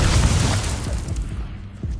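Incendio fire spell blasts from the video game Hogwarts Legacy, a dense roaring burst of booming, crackling fire energy that is loud up front, then fades slightly into a steady rumbling wash with small pops near the end.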